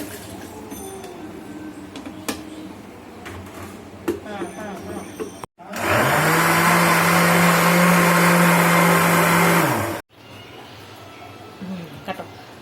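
A kitchen blender making juice roars with a loud, steady whir for about four seconds, starting and stopping abruptly, framed by quieter kitchen clatter and a voice talking.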